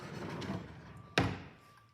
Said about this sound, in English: I'm just going to go ahead and put the pictures in the drawer